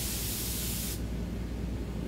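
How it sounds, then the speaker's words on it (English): A spray gun set to about 25 psi lays paint onto a Holden HQ bonnet, a steady broad hiss lasting about a second before cutting off, leaving a quieter room hum. "Just gave the front and back edges a quick spray"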